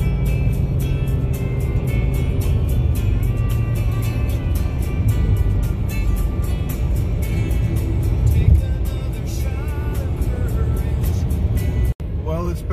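A car drives along country roads in upstate New York. The engine and road noise drone steadily and loudly from inside the cabin, and a voice is heard faintly at times.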